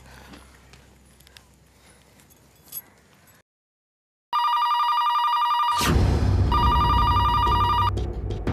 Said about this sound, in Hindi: ये कोई फोन क्यों नहीं उठा रहा है